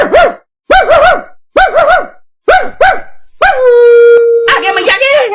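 A cartoon dog barks in a run of about five sharp, loud yelps, then lets out a long drawn howl, with a busy jumble of cartoon sound at the close.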